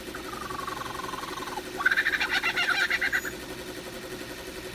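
Lyrebird mimicking a kookaburra's song in Australian bush, a rising then falling whistled call followed by a loud rapid cackling, chuckling burst that swells and fades, close and clear over quiet background.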